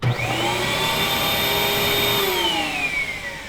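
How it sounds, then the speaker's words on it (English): Wall-mounted shop vacuum running in a garage, a loud steady whining motor drone held close for a few seconds before its pitch begins to drop as it winds down. "we've got a cool wall-mounted vacuum"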